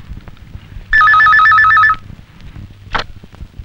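A single loud burst of electronic telephone ringing warbles for about a second in a quiet room, followed by a short rustle, from a scene in a Bangladeshi feature film.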